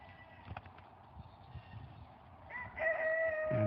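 Chickens cluck softly in the background, then a rooster crows loudly and close by near the end.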